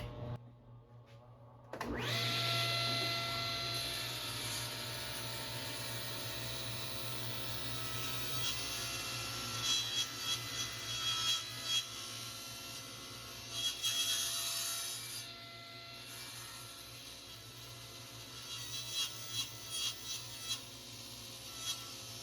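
A steady loud roar of a dust vacuum runs throughout, joined by the whine and rasp of a table saw ripping through wood.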